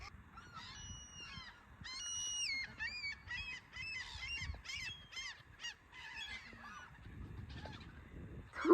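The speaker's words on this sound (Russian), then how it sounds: "Господи, я столько чаек не видела, наверное, даже на море." Gulls calling near a roadside monument in Yakutia, a flock of repeated squawking cries overlapping at varying distances, loud bursts over a low outdoor rumble with no talking.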